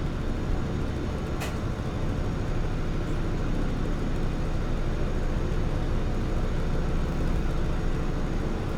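A steady, loud engine drone from an Antonov An-2 biplane in Microsoft Flight Simulator 2024 runs continuously without change, a broad constant roar with no voices.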